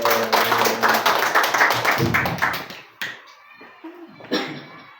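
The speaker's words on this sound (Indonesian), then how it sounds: "kita tepuk tangan untuk Mak Ensi" Students at a junior high school in Kefamenanu clap for a speaker at a school event, a burst of dense clapping for about three seconds that quickly thins into a few scattered claps and taps.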